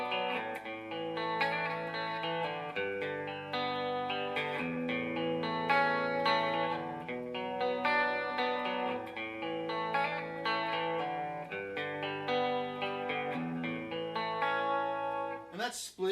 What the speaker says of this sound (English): let's do a clean tone. This is chorus. This is on this pickup right here on the bridge pickup.